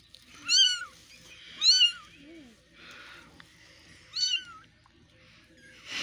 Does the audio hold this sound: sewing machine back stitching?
no